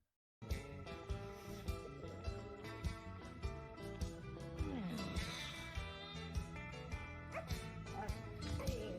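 A dog barks and yips repeatedly in a television drama scene, rhythmic sharp barks over a busy music score, fairly loud and continuous throughout.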